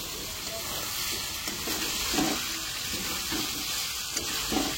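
Chicken pieces fry in oil with spice paste, a loud steady sizzle with occasional stirring knocks and bursts of sputtering throughout.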